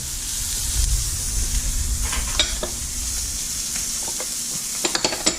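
Food sizzles steadily in a hot pan with white cooking wine, salt, pepper and butter, a continuous loud hiss with occasional stirring scrapes and no voices.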